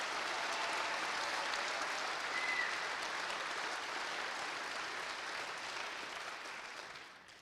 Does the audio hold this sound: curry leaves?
no